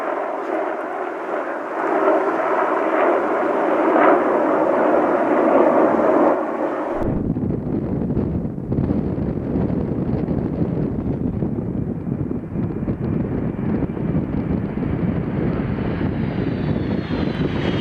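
Many helicopters fly over a desert in Iraq, a loud rushing rotor and engine roar that shifts abruptly partway through into a deeper, rumbling beat.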